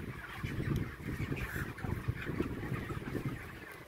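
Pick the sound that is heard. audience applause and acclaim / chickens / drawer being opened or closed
chickens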